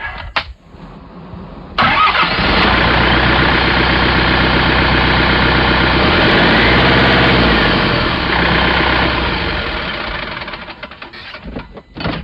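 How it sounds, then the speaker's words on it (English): A tractor with a turbo engine cranks over briefly, catches and settles into a loud, steady, close diesel-like idle that runs for about ten seconds before being cut off, with no squeal audible. "Let me see if the tractor will squeak still when I start it."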